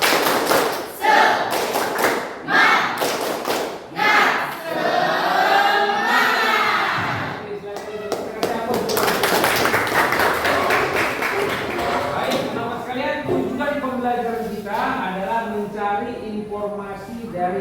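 A classroom group performs the tepuk semangat clapping routine, with sharp rhythmic bursts of claps and thumps interleaved with loud group chanting voices, repeating throughout at close range.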